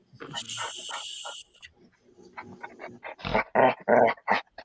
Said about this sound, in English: It's a little loud. Vicious doggy.